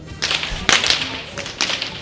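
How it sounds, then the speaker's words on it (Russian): Whips cracked by children, a few sharp snapping cracks spaced irregularly over light background noise, fairly close, with no talk. "Дети дорвались до кнутов,"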